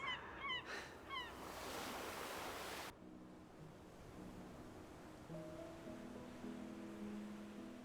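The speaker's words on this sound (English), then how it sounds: "And the bloody seagulls." Seagulls call by the sea in cold, windy coastal air, a few sharp cries over a steady roar of surf and wind, followed by fainter, longer bird calls in the distance.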